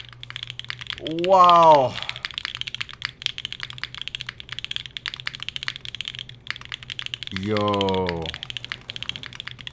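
Custom mechanical keyboard fitted with artisan keycaps, typed on in a steady close-up clatter of crisp key presses that runs throughout, with two short excited voice exclamations over it.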